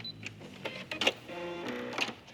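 A sewing machine backstitches through cork fabric, giving a few brief mechanical bursts and stitching runs at close range. There is no talk.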